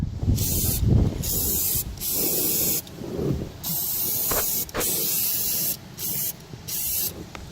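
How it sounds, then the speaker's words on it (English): An aerosol can of rust-proofing spray hisses in repeated bursts of about a second each inside a car body, loud and close, with short pauses between sprays. "I'm going to spray up in here really good."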